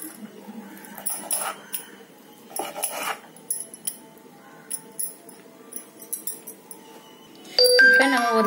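A knife cuts rolled potato snack dough on a board in a kitchen. Soft, close taps and scrapes come in a loose, irregular series of short strokes, and a louder clatter of handling follows at the end.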